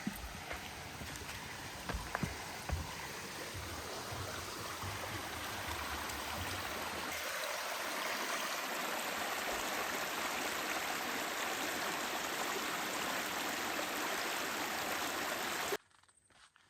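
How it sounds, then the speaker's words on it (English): Phantom Creek rushes as a steady broadband wash of flowing water on a forest hiking trail, loud and continuous throughout with scattered footstep-like knocks early on, cutting off abruptly near the end. "We're about to cross Phantom Creek again"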